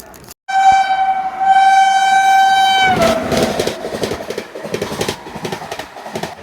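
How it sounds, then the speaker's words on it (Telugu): A long-distance passenger train runs alongside another train; a long, loud horn blast sounds first, then rumbling and rhythmic clickety-clack from the wheels carry on close by. "అసలు ఇలా ట్రైన్ పక్కన ట్రైన్ పోతుంటే చూస్తుంటే ఎంత బాగుంటుందో కదా"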